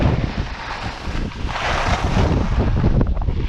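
Strong wind roars and buffets a microphone while skiing downhill in poor visibility at a French ski race, a loud continuous rushing that swells slightly toward the end, with no voices.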